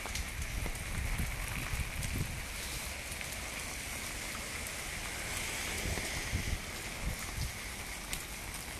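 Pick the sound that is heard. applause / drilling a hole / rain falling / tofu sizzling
rain falling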